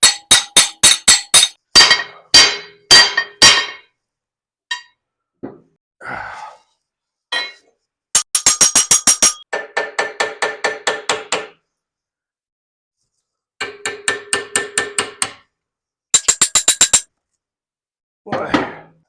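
A steel plate used as a beater rings out in rapid bursts of sharp metallic strikes on an old-school springer front end being fitted to a Knucklehead frame, with clusters of hits separated by silent pauses.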